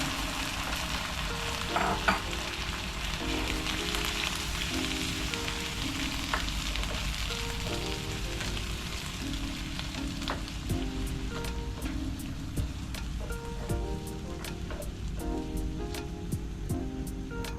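Softened mung beans crackle in a hot pan with a constant rain-like sizzle, while faint tapping and clinks from stirring show through the hiss.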